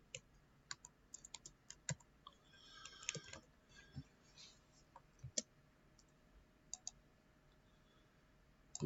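Computer keyboard typing a Linux command to restart the cron daemon, scattered quiet clicks and short bursts of keystrokes with pauses between them, close and faint over a low hum.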